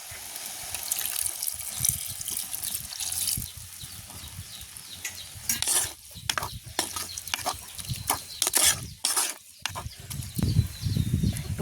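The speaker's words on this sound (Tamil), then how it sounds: "கீரைக்கு நாங்கள் முதல் பால் தான் கொஞ்சம் விட போகிறோம்" Coconut milk pours and splashes into a pot of cooking greens, with gurgles and drips coming in uneven bursts, close and fairly loud.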